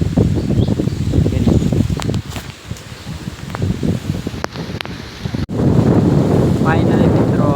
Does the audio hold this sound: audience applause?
no